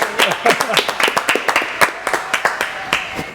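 Studio audience clapping for a singer during the live segment of a French show, a quick run of sharp, close claps lasting a few seconds with voices talking over it.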